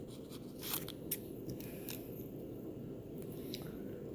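Scissors snipping the ears off a DIY blowgun stun dart, a few short crisp cuts over a steady background hiss, close and fairly quiet with no talking.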